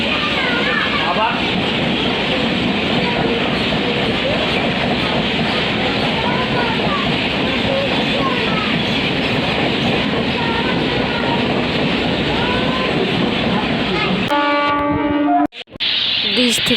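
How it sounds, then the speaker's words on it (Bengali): A train rumbles beneath a bridge while the listener stands above it, a loud, continuous roar of wheels and carriages that cuts off abruptly near the end. "আমরা ব্রিজের উপরে দাঁড়িয়ে আছি, নিচ দিয়ে ট্রেন যাচ্ছে।"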